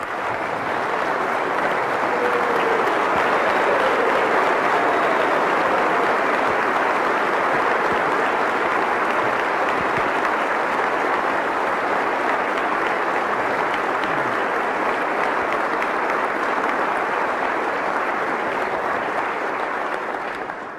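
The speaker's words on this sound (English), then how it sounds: "Please give our great National Guard an incredible round of applause." A crowd at West Virginia's State of the State address applauds the National Guard in loud, sustained clapping that holds evenly for about twenty seconds.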